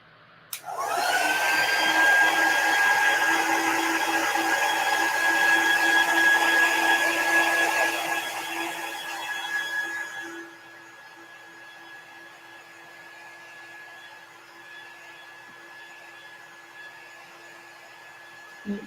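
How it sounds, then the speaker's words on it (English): A handheld heat tool blows hot air to dry paint on a papercraft project, running loud and steady with a whine for about ten seconds before cutting off, leaving a faint hum. "I'm going to use my heat tool to dry it"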